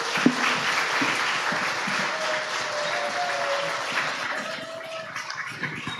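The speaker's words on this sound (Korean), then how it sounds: "선교사님 나오실 때 환영의 박수로 맞이해 주시기 바랍니다." A church congregation at a missions festival service claps in welcome as a missionary from the Philippines comes forward, a sustained wash of applause from the full room that thins slightly near the end.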